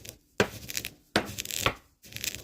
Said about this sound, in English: I transferred the roasted one over in our mortar and pestle